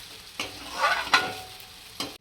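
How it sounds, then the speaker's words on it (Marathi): Sabudana khichdi with potatoes being stirred in a pan, a low sizzle under a few distinct spatula scrapes and knocks, close and moderately loud, ending abruptly. "आणि आता मस्त हलवून घेऊया छानपैकी एकत्र करून घेऊया बटाटे साबुदाणा"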